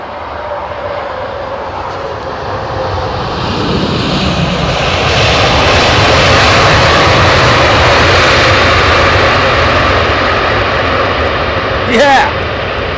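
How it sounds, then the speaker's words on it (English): An Aeromexico Boeing 787 Dreamliner with General Electric GEnx engines takes off at Heathrow, its loud broadband jet roar building steadily and holding at full power, with a brief burst of other noise near the end. "this might make a bit of noise, this Aeromexico Dreamliner, coming in hot"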